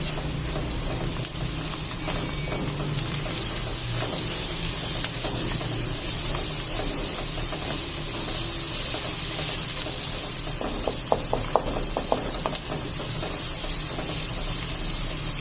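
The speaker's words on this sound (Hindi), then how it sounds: "ये जो अदरक लहसुन का पेस्ट है ये डाल देंगे। ठीक है, इसको भी थोड़ा सा भून लेते हैं।" Ginger garlic paste frying in hot oil for khara masala keema, a constant dense sizzle and spatter, fairly loud and close, continuing evenly with a few sharper pops and no speech.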